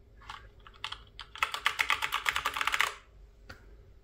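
Quick bursts of typing on a mechanical keyboard at a desk used for coding: a few scattered keystrokes, then a rapid run of crisp clacking keys for about a second and a half, a final lone tap, all close and clear with no talk.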